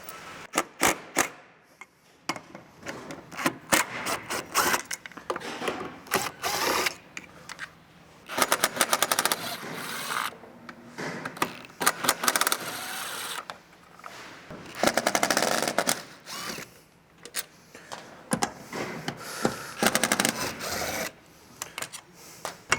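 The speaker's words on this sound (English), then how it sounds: "now we'll go ahead and remove the bolts on the other side" Bolts on the factory roof rack of a 2008-2022 Toyota Sequoia being removed with a power tool, rapid ratcheting bursts repeating in loud clusters with short pauses between them.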